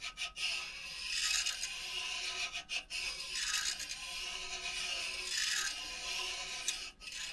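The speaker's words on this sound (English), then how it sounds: "And you can hear the scraping sound." A valve lapping tool scraping in circles against an engine valve seat of a 2000 Yukon, giving a repetitive rasping rub that swells and fades in slow cycles, close up and alone, without talk.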